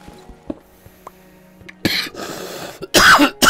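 A few sharp coughs and throat-clearing bursts during a German Minecraft Let's Play session, close and loud, after a quiet stretch with faint clicks.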